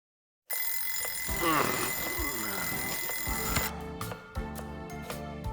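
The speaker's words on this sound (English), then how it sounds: "Wow, I even moved the alarm and everything. Turning it off in your sleep is a talent." Alarm clock ringing in the video game Lost Judgment, a bright, continuous electronic ring that starts abruptly after a moment of silence and carries on over rattling game sounds before breaking into shorter pulses.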